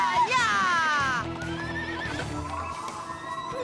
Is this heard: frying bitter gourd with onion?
no